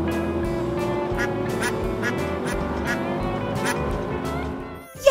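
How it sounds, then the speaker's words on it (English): Cartoon duck quacks in a children's farm-animal guessing game, a few short nasal calls over a steady bed of background music and engine-like hum from a little pickup truck. "Yes! It's a duck!"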